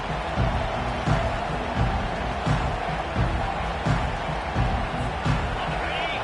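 Stadium crowd at a Clemson vs Texas college football game, a steady, dense roar that pulses slightly throughout, with faint voices within it.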